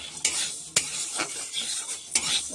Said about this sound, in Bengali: এই বিউলির ডালটাকে কড়াটা বসিয়েছি শুকনো খোলায়, তাকে একটু ভেজে নেব